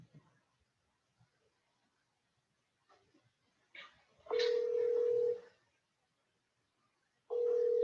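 A telephone call being placed: a few faint taps, then a steady ringback tone sounds twice with a pause between, clear and close in an otherwise quiet room.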